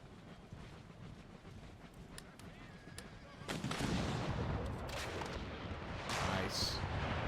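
Cannon artillery in Empire Total War: a distant rumble of booming shots swells into a heavy, sustained barrage partway through, with sharp cracks on top and someone talking over it.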